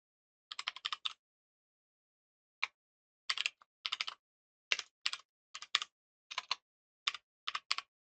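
SystemVerilog code being typed on a computer keyboard: short bursts of crisp, close key clicks separated by pauses, in an otherwise quiet room.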